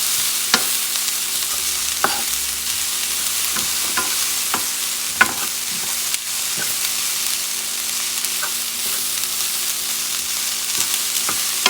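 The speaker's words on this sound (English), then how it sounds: "I'm going to add the rice because I'm heating it up. And I'm going to mix some of that shrimp." Rice and shrimp being stirred together in a hot pan, a steady soft sizzle with scattered scraping clicks of the utensil spread through the clip, no voices.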